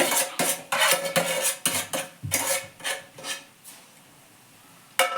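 Roasted semolina being worked into melted dates in a pan, rapid rhythmic scraping and clinking of a spoon on metal that slows and fades before one last knock, near and with no talking.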